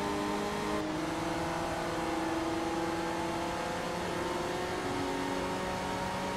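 A race car in Forza Motorsport 2 drones under acceleration, a steady engine whine with sustained tonal harmonics that shift gear slightly, continuous and fairly close throughout.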